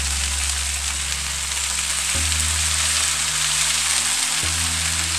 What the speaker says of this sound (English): Garlic in the pan.